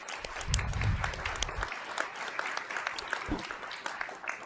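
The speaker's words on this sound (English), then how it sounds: "give him another round of applause" A crowd at a city council meeting applauds steadily, a dense patter of many hands clapping, with murmured voices underneath.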